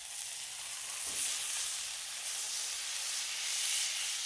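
Chicken halves frying on a Blackstone flat-top griddle, an even hissing sizzle that holds steady throughout at moderate level, with no one talking.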